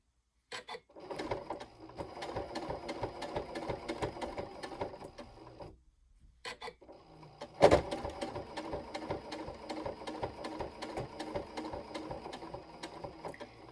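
A sewing machine stitches a narrow 1/8-inch seam on a binding strip for a sleeping eye pad, running in steady rapid bursts with a brief pause midway and a sharp clunk near the restart.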